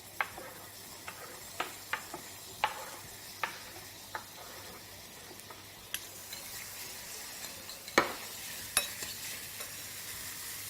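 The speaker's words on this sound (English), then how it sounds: "I'm going to add my tomatoes." Tomatoes frying in a pan, a soft steady sizzle close by with scattered sharp clicks and taps of a utensil against the pan, fairly quiet overall.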